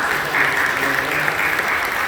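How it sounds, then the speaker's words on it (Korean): Church congregation applauding newly baptized members, a dense continuous round of clapping filling the hall at moderate loudness, with a faint low hum beneath it. "뜨겁게 박수해 주시기 바랍니다"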